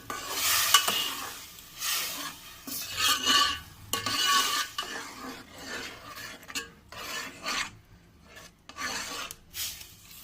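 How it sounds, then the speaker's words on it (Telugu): Semiya upma, vermicelli in a pan with added water, being stirred: uneven, rhythmic scraping and rubbing strokes of a spoon against the pan, with brief gaps between the close, moderately loud swishes. "కలిపేసుకుందామండి బాగా."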